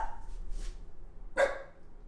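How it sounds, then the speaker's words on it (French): A pet dog, just woken from a nap, gives a single sharp bark indoors at home, preceded by a faint rustle, in an otherwise quiet room. "Oh, le chien Jacques."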